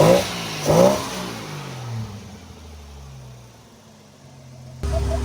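A Jeep CJ7 rock crawler fitted with a Holley Sniper EFI revs up twice in quick throttle blips near the start, then settles into a lower idling rumble that fades slightly before a brief louder burst at the end.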